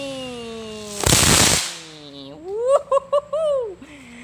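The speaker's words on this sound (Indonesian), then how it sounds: "itu dia reaksi dari mercon gangsing kreteknya berwarna-warni" A spinning firecracker bursts with a sharp hissing crackle lasting about half a second, followed by whistling tones and excited voices.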